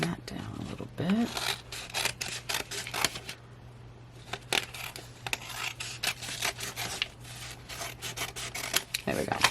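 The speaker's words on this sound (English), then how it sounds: "Let's trim that down a little bit." Scissors trim paper for a spooky October junk journal cover, giving close, irregular snips and rustling paper handling in short bursts, with a voice talking at times over the cutting.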